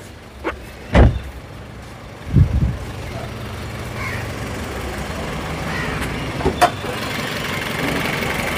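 A used Toyota Raum's engine idles on LPG with a steady low rumble, broken by a few dull thumps and knocks close by.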